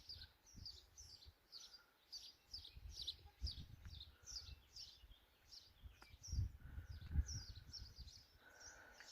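Small birds chirp in a quick repeating series of faint, high tweets on a sunny morning in Italy, over low rustling and handling noise.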